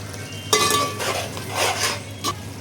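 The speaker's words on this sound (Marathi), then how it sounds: "आता हे पण परतून घ्यायचं व्यवस्थित तेल सुटेपर्यंत 10 मिनिटं" Yogurt being stirred and sautéed in a pan with oil while cooking vegetable pulao, giving a few clinks of a spoon against the pan and a soft scraping stir over a faint background hum, with no voices.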